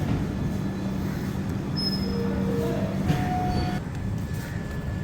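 Intercity express 13212 running on the Danapur to Jogbani line in Bihar, a steady, loud rumble of wheels on rail with thin metallic squeals rising and fading.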